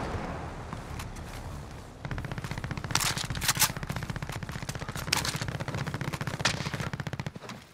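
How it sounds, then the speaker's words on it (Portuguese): Rapid automatic gunfire from Call of Duty: Modern Warfare, dense sustained bursts that grow louder after a softer opening, with sharp loud peaks standing out across the whole stretch and no talk. "Não tô ouvindo de onde tá vindo esses tiros"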